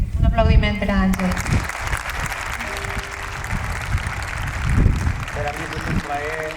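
An audience at a poetry and music concert applauds a performer, a sustained wash of clapping that swells and fades, with someone speaking over it at the start and end and a few voices underneath.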